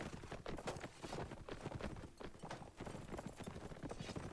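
Hooves of mounted cavalry units clatter in a video game battle, a dense, continuous patter of many overlapping hoofbeats at steady loudness throughout.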